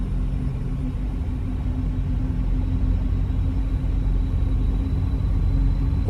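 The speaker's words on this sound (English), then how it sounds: "throttles to the wall and let's go." Lockheed L-100-30 engines at full throttle on the takeoff roll in X-Plane 11: a dense, steady low rumble with a faint sustained hum, constant and loud throughout, with no voices.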